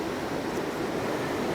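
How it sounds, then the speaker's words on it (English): A swiftly flowing river in the Bear River Greenway Park in Evanston, Wyoming rushes steadily with a loud, continuous broadband wash of water, heard alone without talk. "this is such a swiftly flowing river"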